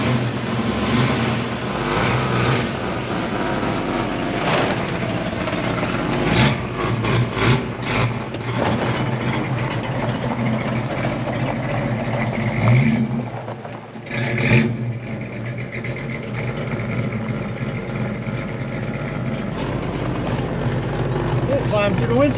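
Mercury Comet GT with a big choppy cam, fire-damaged, roaring steadily from inside the cabin on a first test drive, with rises and dips in revs as it accelerates and shifts, loud and continuous throughout.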